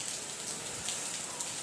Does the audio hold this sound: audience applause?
no